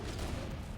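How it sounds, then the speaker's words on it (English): A frag grenade explosion and gunfire in Halo: Combat Evolved come through as a brief, dense, rumbling burst of noise lasting under a second. "It was a frag and me shooting you in the back."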